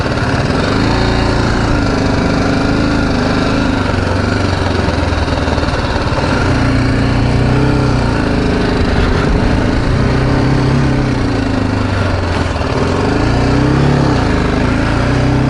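The single-cylinder engine of a BMW G310GS motorcycle being ridden around a flat dirt track: a loud, continuous close-up engine drone with rising and falling revs throughout, no talk.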